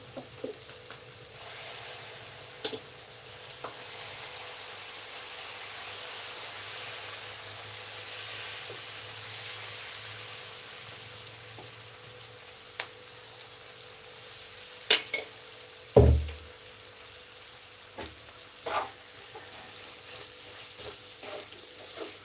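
Dosa (pesarattu) batter spread on a hot pan gives a soft, steady sizzle with light stirring and scraping noises, plus a few sharp clanks partway through, and no voices.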